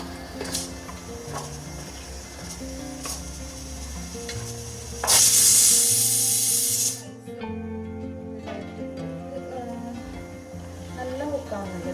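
Chicken coated in masala frying and being stirred in a pan, with steady sizzling and scraping stir strokes, a loud burst of hissing midway, and a voice talking over it.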